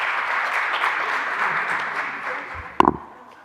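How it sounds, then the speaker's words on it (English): Audience applause at an evening union advisory board meeting, a steady wash of clapping for about three seconds before a brief loud thump and rustle near the end. "Let's give our union representatives a round of applause."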